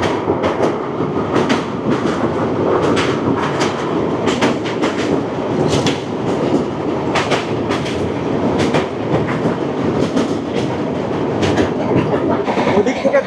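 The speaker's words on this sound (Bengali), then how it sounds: "ওদিক থেকে ধেয়ে আসছে 13-147 শিয়ালদা বামনহাট উত্তরবঙ্গ এক্সপ্রেস" The 13147 Sealdah–Bamanhat Uttarbanga Express approaches with a loud, continuous rumble and steady clickety-clack of wheels over rail joints, filling the whole stretch without letup.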